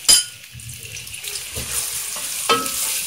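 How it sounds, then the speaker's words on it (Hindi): Three chopped onions dropped into half a cup of oil in a cooking pot for white chicken korma, giving a close, steady sizzle with a sharp clatter at the start and occasional stirring scrapes, no talking. "अब हम एक डेगची में 1/2 कप ऑयल लेंगे और इसमें 3 अदद प्याज जो मैंने चॉप कर ली थी वो डालेंगे और फ्राई करेंगे।"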